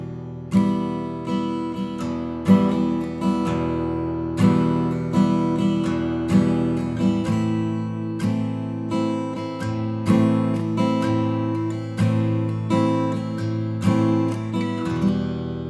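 A minor chord progression moving between the first and fourth degrees, in a lesson on chords: sustained chords struck again and again in a slow, even rhythm, each ringing out and fading, played alone and clearly.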